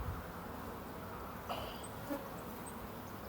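Honey bees buzzing faintly around an open hive brood frame, a soft steady drone with occasional closer passes, no voices.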